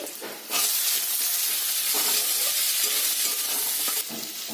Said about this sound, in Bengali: পেঁয়াজগুলোকে খুব ভালো করে ভাজা ভাজা করে নিতে হবে